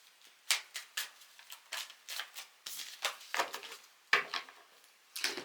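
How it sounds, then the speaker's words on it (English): A deck of tarot cards being cut and shuffled up close, a quick run of crisp papery riffles and slaps in uneven bursts, with no talking. "I will be cutting the deck, and then we will get 3 cards for each section"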